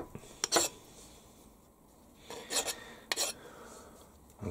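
A file deburring the edge of a machined toolpost riser plate for a Warco WM180 lathe, a few short scraping rasps in separate bursts with quiet gaps between, close and fairly soft.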